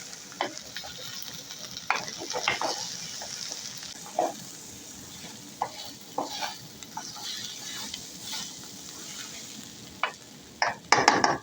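Tomato paste sizzles in a pot while a spoon stirs it to keep it from sticking, a steady frying hiss broken by scattered scrapes and clinks of the utensil against the pot.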